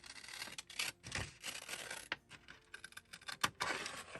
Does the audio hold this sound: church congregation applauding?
no